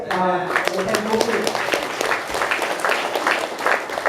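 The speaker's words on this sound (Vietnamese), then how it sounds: "Come on, let's give a hand to the Lord." A church congregation claps hands for the Lord at the close of a bilingual Hmong Christian service, a brief voice at the start giving way to sustained, uneven crowd clapping.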